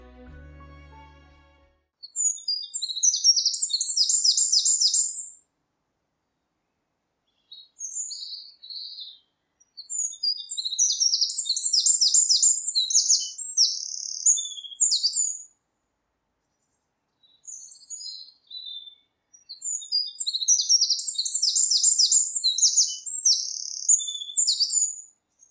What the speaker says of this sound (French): le troglodyte mignon chantant devient momentanément le roi.